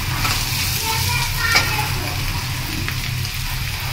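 Bitter gourd (karela) bhaji frying in a pan gives a steady, close sizzle with a low hum underneath and a single faint clink midway. A voice talks over it.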